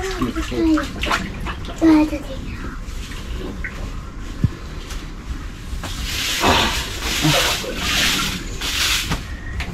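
Water is sprayed with a hose over a floor or ground, heard as a steady hissing rush that grows stronger in the second half, with people talking nearby throughout.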